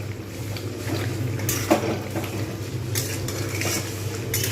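Coriander chicken is stir-fried in a pan with a spatula. Steady scraping and stirring strokes ring against the metal over a low background hum and a faint sizzle, close and continuous.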